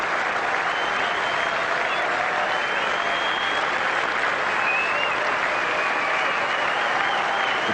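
Steady, dense crowd applause from a stadium in the cricket video game Cricket 2001, a loud, continuous wash of clapping and cheering with no breaks over nearly eight seconds.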